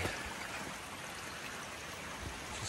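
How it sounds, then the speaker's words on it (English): Mountain brook near Hickory Nut Falls rushing steadily over rocks, a continuous close broadband wash of flowing water with no speech. "The water's getting louder."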